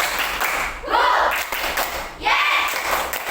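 A sixth-grade primary school class claps together in a rhythmic 'ready' clap, sharp bursts of many hands in quick patterned sequence, with children's voices mixed in.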